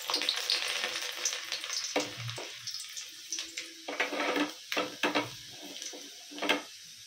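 Chopped onions hitting hot oil in a pan for egg fried rice, crackling in a steady close sizzle with sharper bursts of spatter and stirring throughout, no talk.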